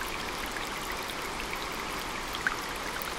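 Rushing water from the waterfall at Cafe Popko in Seoul, a steady loud wash of falling and splashing water with no break, no voices over it.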